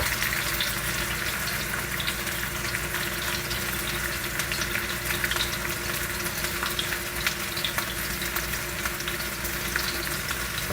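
Onions and garlic sauteing in a pan, a loud dense crackling sizzle that holds steady throughout with no pauses.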